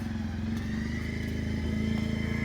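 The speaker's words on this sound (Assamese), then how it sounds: "bike start" A motorcycle engine runs with a steady, close idling putter that rises slightly as it catches and holds, alone without speech.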